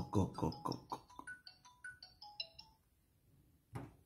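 A short electronic phone ringtone plays a quick melody of beeping tones, fairly faint, followed by a brief thud.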